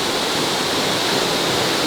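Pulang Batu Falls pours in a dense, continuous roar of falling water, close and loud, with no voices over it.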